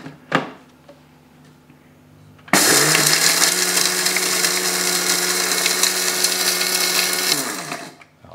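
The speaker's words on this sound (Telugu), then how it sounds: "యాలుక్కాయలు, దాల్చిన చెక్క. ఎస్, మిక్సీ జార్లోకి తీసేసుకున్నాము. చక్కగా దీన్ని ఎలా గ్రైండ్ చేయాలి" A kitchen mixer grinder whirs loudly for about five seconds as it grinds cardamom pods and cinnamon sticks in its jar, then winds down. A single knock comes first, followed by a brief quiet stretch.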